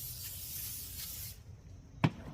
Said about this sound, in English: I'm just gonna spray a little bit of this old oil on them